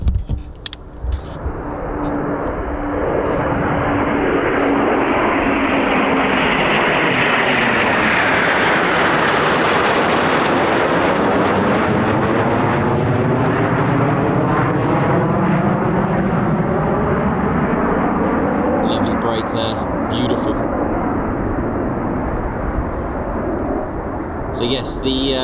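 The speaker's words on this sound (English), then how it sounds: "so you notice like the taxiing, they're close to us on this side and then some on the other side" Military jet aircraft at RAF Coningsby taxiing and then taking off, a loud sustained engine roar that swells and sweeps past close by, with a people talking faintly near the start and end.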